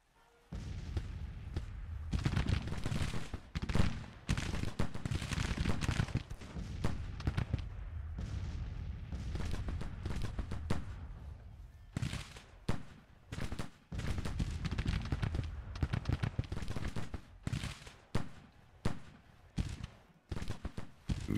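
Volleys of musket and artillery fire in Grand Tactician: The Civil War, a Union army shooting at General Smith's Confederate troops of the Army of Texas; dense crackling bursts and heavy thuds roll on steadily, then break into separate sharp shots near the end.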